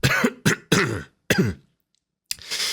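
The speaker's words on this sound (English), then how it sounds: "Sorry, I keep coughing." Several harsh coughs in quick succession, close and loud, from a person recovering from recent vocal cord surgery, followed by a pause and one more rough cough with a throat-clearing rasp.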